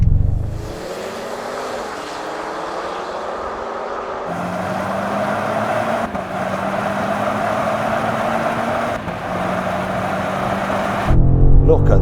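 A BMW M5 in sporty settings accelerates hard in third gear from a 30 mph roll-on, its engine note rising steadily and loudly in pitch with a couple of brief shifts in tone, heard from close by without talk.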